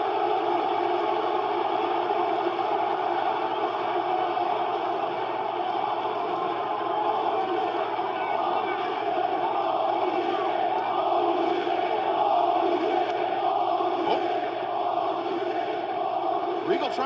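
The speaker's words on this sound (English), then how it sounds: "crowd finally woke up" A wrestling arena crowd at a pro wrestling pay-per-view roars and cheers continuously, a dense, loud wall of voices with scattered whoops and shouts rising and falling throughout.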